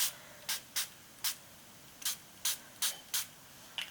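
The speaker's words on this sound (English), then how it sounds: "I'm gonna be spraying them here." Short bursts of spray paint hiss from an aerosol can, about nine quick puffs at an irregular pace, close and crisp over a quiet room.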